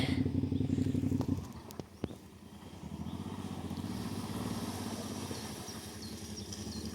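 A motorcycle rides past on a muddy trail through a forest park, its engine droning loudly up close at first, then a steadier, slightly more distant running note continuing to the end.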